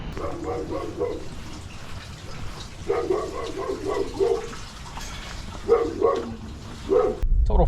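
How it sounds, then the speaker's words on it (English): A dog barks in short bursts of several yaps, repeated in three or four clusters, set against steady background noise like rain or traffic. "Heard that dog barking from across the street"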